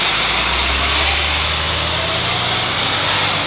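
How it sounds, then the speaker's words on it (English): A city truck passing close by on the street, a loud continuous low engine rumble mixed with broad road noise, the brakes reportedly squeaky, heard alone without voices. "Now that vehicle has both the high end with the squeaky brakes and the low part."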